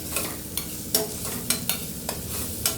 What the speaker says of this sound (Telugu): సాల్ట్, పసుపు కూడా యాడ్ చేసేసుకొని ఇంకొక నిమిషం ఫ్రై చేసుకుందాం